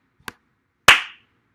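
Two sharp hand claps right into a microphone, a quieter one followed about half a second later by a loud, ringing clap that decays briefly, with silence around them.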